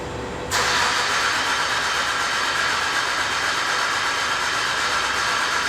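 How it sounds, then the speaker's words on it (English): A 2000 Nissan Xterra 3.3 engine with a P0125 fault code turns over and catches at once, jumping from near quiet into a steady, loud rushing hum that continues without a break. "I'm gonna start the engine."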